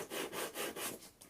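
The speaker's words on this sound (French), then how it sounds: "On scie le scotch." Knife sawing through packing tape on a parcel: about six quick, rhythmic back-and-forth strokes, rasping and close, with no talk.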